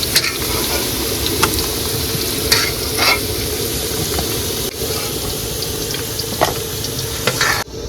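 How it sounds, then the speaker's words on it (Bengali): Potatoes frying in oil in a pan, cooked outdoors, with a loud continuous sizzle and occasional scraping clinks of a spatula stirring and lifting them out, no voices. "আলু কিন্তু ভাজা হয়ে গেছে আবার তুলে নিচ্ছি"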